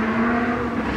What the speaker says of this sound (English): And that was a Huracan. That's definitely a Huracan.